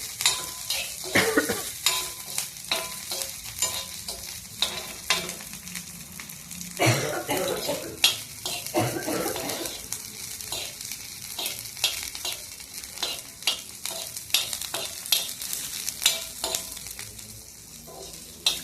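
Garlic and green chilies frying in groundnut oil, a steady close sizzle broken by frequent stirring scrapes and clinks, with a cough partway through and no speech.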